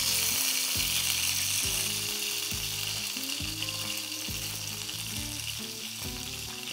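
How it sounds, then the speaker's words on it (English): Eye of round beef sears loudly in a hot skillet, a steady dense sizzle with occasional scraping and shifting clinks as the meat is turned, continuous and close throughout. "So now we're searing it up."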